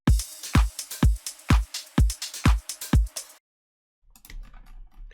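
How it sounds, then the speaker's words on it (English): Short electronic house drum loop with a very short punchy kick, a layered clap and a groovy hi-hat pattern, loud and evenly spaced for about three seconds, then silence and a faint low rustle. "I also made a drum pattern and it sounds like this"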